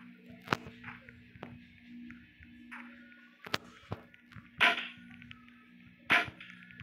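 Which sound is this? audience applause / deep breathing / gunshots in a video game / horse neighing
gunshots in a video game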